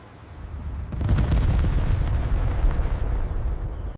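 A blast near the Red Fort metro station entrance in Delhi, heard as a sudden heavy boom that swells into a sustained, loud rumbling roar lasting several seconds, with no voices.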